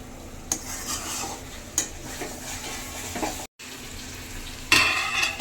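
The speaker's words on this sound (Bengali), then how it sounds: "আর 5 মিনিট মতন কষাবো, নেড়ে চেড়ে" Mutton being stirred and fried in a pan for a Bengali curry, a steady sizzle with scraping spoon strokes, a brief dropout midway and louder clatter near the end.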